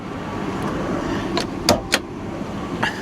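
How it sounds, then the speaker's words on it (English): A Chevrolet Suburban LT's hood latch is released and popped open, heard as a couple of sharp clunks over a steady low background hum, with no voices. "Let's pop the hood."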